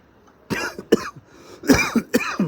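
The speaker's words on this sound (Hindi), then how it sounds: "खांसी भी आ रही है" Several harsh coughs in quick succession from breathlessness on the Amarnath Yatra, close by, with a throat-clearing sound between the bursts.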